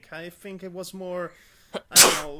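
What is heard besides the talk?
sneeze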